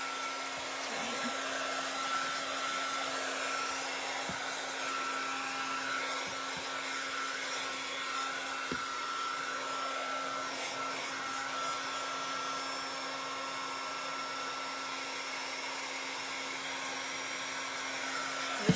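A hair dryer runs steadily and loudly throughout, drying the seam of a boot with a constant whine and airflow hiss, alone without speech.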